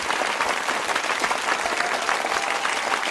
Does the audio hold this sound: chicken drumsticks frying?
no